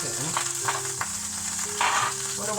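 Onions sizzle and fry in a pan with a steady crackling hiss, a few stirring scrapes rising over the background hum.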